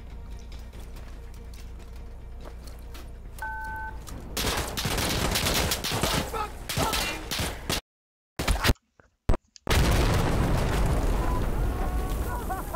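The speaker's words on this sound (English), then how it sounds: "I destroyed the objective and blew myself up" Explosions and gunfire in Insurgency Sandstorm burst in loud, dense volleys around an objective being destroyed, with brief cut-outs to silence between heavy blasts and a voice talking at times.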